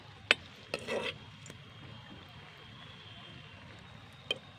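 A few sharp clinks and a brief scraping clatter of a utensil flipping food in a pan, over a faint, quiet frying sizzle.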